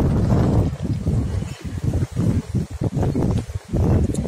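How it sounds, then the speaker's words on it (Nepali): A fierce windstorm sweeps through a village, roaring low and loud in surging gusts that buffet the microphone, with short lulls between blasts and no talk. "हेर्नु त यस्तो हावाको थाहै छैन क्या"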